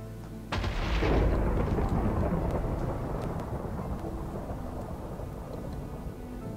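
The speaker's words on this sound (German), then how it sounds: "Komm schon, gib mir nochmal einen Blitz." A lightning strike in Minecraft sets off a sudden loud thunder crack followed by a long, broad rumbling roll that slowly fades, with no talk over it.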